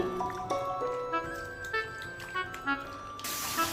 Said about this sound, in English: Finally, rinse them clean under running water.